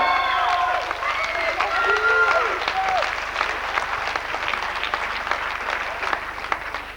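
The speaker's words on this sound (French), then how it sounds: "Alors on peut applaudir Nicolas Souchet." Dense, steady applause from a large theatre audience at curtain call fills the whole stretch, with a few voices briefly audible over it at the start.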